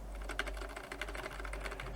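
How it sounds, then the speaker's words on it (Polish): Rapid, steady typing on a keyboard fitted with silent mechanical switches: a continuous stream of soft, muted key clicks, close up and on its own, with no voices. "kiedy zamiast tego normalnego mechanika weźmiemy klawiaturę na mechanicznych przełącznikach cichych"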